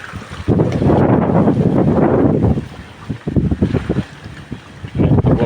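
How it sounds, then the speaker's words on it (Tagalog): Strong gusts roar and buffet the microphone in heavy surges, easing briefly before rushing back loud and close, at Lumot Lake in Cavinti, Laguna, in the rain. "mahangin na naman ng malakas"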